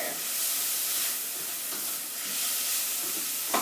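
Food for a curry browning in a pan sizzles with a steady, fairly quiet hiss and crackle that holds evenly throughout, with a small clink near the end.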